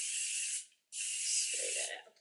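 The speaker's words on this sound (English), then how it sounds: "Spray that out there a little bit." Hairspray hisses from an aerosol can onto a bridal updo in two close bursts, the first about half a second and the second over a second long, with a low voice murmuring during the second burst.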